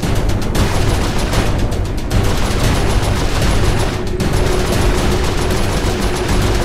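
Dense, sustained turret gunfire in Saints Row IV, a loud continuous rattle of rapid shots with occasional brief gaps, filling the whole stretch without voices.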